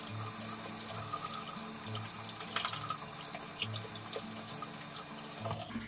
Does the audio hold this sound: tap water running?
yes